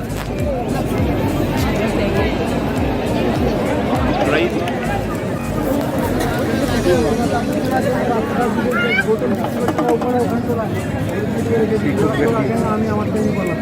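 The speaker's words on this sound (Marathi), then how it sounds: "मित्रांनो ज्या गर्दीबद्दल आपण बोलत होतो ती बघा ही गर्दी" Dense crowd at Mahakaal temple in Ujjain, a continuous close babble of many voices and footsteps with a person speaking over the hubbub.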